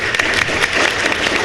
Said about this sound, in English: I think Bobby actually deserves a little round of applause for